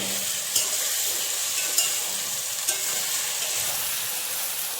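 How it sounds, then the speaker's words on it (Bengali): Mutton braises in a pan for kosha, giving a loud, continuous sizzle that stays even throughout, with a few sharp scrapes of a spoon against the pan. "মাংস কষানো মাংসটা কষে গেছে"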